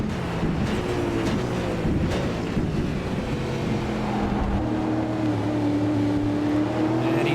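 Supercar engines roar continuously through the Monza circuit in the BP All Stars eSeries sim race, with rising and falling engine tones as cars brake and accelerate into turn 1, loud and steady with no talk.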